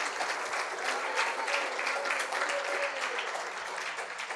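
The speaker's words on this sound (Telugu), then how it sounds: "you can clap and celebrate what ever you do" A church congregation claps together during a fasting prayer service, producing a dense, continuous wash of applause that holds steady throughout, with faint voices mixed into the background.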